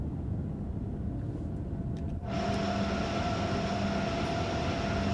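Acela Express high-speed train in Train Sim World 4 on the Northeast Corridor near Boston, a steady loud rumble of running gear with a sharp shift at mid-clip into a brighter hum and sustained electric motor whine.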